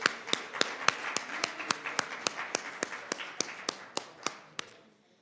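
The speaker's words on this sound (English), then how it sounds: "If we can give them a round of applause again." Audience applause for a panel at a tenant leaders' session: one loud, steady nearby clapper beats a quick even rhythm over a softer wash of crowd clapping, then stops just before the end.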